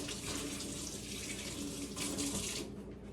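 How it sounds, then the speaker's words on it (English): Water runs steadily from a kitchen tap into a sink as a flour-covered hand is rinsed off, a close, even hiss with a brief surge of splashing near the end before it tapers. "I'm gonna rinse my hand off here."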